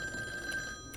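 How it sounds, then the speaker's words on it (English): Telephone ringing inside the video game Devotion, a brief electronic ring heard fairly faint for about a second with no voices. "But I have to answer the phone."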